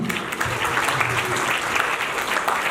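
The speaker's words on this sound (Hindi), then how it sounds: "एक बार जोरदार ताली बजा दीजिए" Applause from a gathered audience at a program, a steady, fairly distant patter of many hands clapping with murmured voices underneath.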